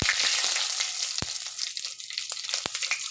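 Whole cumin seeds, a bay leaf, cloves and cracked cardamom fry in hot oil, giving a loud, continuous crackling sizzle with sharp pops scattered throughout and no voices.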